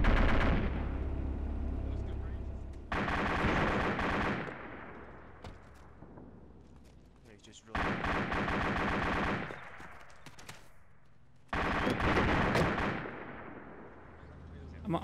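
Long bursts of rapid machine gun fire in Arma 2 during a village attack come in three heavy stretches, each several seconds long, with quieter gaps between them and faint distant shots.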